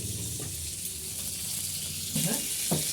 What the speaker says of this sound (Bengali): তো এখানে তেল দিয়ে দিয়েছি দেখো আর উচ্ছে আলুটা ভেজে নেবো